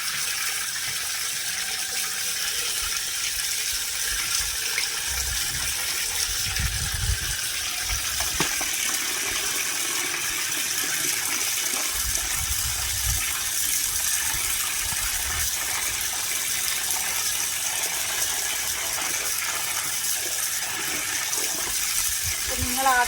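Rice is washed for chicken biryani under running tap water, with a steady gush, splashing and clinks from the pot, while a voice speaks intermittently.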